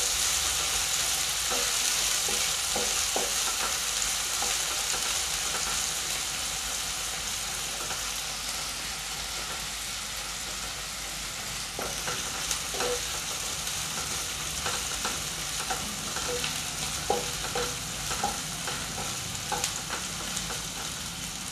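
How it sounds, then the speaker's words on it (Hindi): A large finely chopped onion frying in a pan until golden brown for a chana dal and methi dish, with a constant loud sizzle and repeated light scraping stirs, close up and without voices. "अब इसमें जाएगा 1 बड़ी साइज का बारीक कटा हुआ प्याज, इसे भी गोल्डन ब्राउन होने तक भूनते हैं।"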